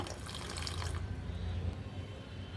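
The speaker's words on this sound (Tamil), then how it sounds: "இதில் கொஞ்சமாக தண்ணி சேர்த்துக்கிறேங்க." Water pours steadily onto jaggery for about a second with a bright splashing rush, then settles into a quieter trickle and low bubbling.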